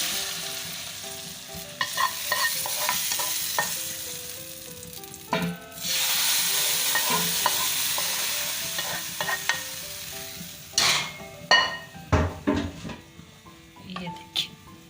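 A sizzling tarka of cumin, green chillies and coriander hits a pot of dal and is stirred in. A sudden loud hiss surges, then settles into bubbling and utensil clatter, with a few short knocks near the end.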